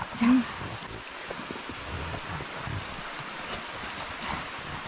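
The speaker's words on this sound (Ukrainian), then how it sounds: "Шум річки." A river flows steadily through snowy woods, a continuous soft rushing murmur heard at moderate distance with light wind mixed in.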